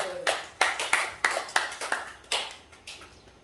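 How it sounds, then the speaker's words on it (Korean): A church congregation claps in a short, uneven burst, about a dozen distinct hand claps sounding fairly close and sharp, spaced irregularly and thinning out toward the end. "우리 모두에게 박수 한번 쳐주세요."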